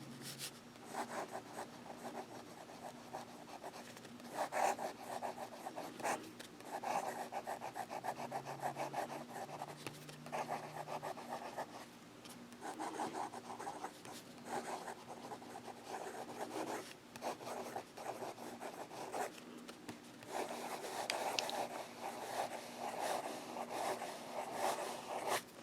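A fountain pen with a Jowo nib scratches across paper in Baystate Blue ink, a soft rasping rub in short repeated strokes, close and quiet with no talking.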